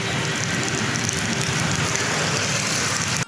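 Monsoon rain falls steadily on a waterlogged Kolkata street, a loud, continuous wash of rushing noise with no voices, cutting off abruptly at the end.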